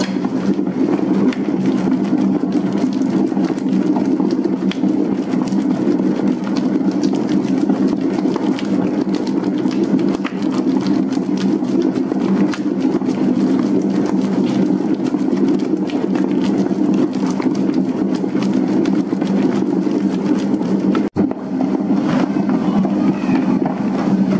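A dough mixing machine kneads bao bun dough, giving a loud, steady motor hum and churning drone that runs without pause until it is switched off near the end.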